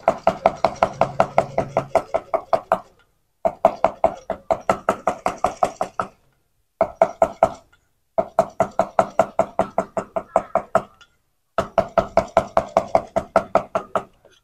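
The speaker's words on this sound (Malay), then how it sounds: "Ayam ni kita cincang dulu." Rapid, steady knife chops on a cutting board as chicken is minced, in several bursts separated by short pauses, close and crisp with no talking.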